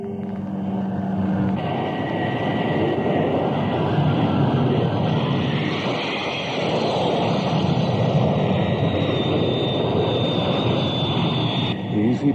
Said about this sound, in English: Undercut down. Flaps down. Banking for final approach.